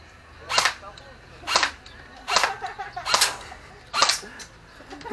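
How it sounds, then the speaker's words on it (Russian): Sharp gunshots crack out one at a time at uneven intervals, loud and close, with quiet stretches and faint voices between them. "Сам факт стрельбы интересен."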